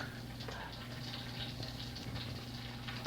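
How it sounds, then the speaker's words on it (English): Water running steadily from a tap as someone fills a glass in a quiet room of an old inn, a continuous low trickle and hum close by, with no voices. "Someone getting themselves water."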